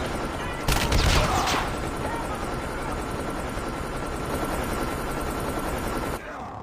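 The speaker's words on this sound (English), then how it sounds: "Friendly stealth chopper inbound." Stealth helicopter in a Call of Duty video game, a constant loud rotor and engine drone under bursts of gunfire, with a brief explosive blast near the start.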